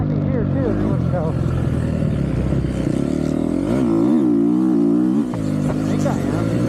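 A GasGas MC250F Factory Edition four-stroke motocross bike accelerates through the gears, its engine note rising and falling with gear changes, loud and close, with a rider's voice faintly underneath.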